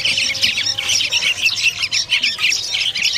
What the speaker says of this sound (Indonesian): di sini melimpah ya burung lolohan